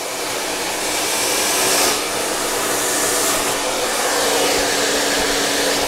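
A handheld hair dryer blow-drying hair at home, a loud, steady airy roar held close for about six seconds, its pitch shifting slightly as it moves across the head, with no speech.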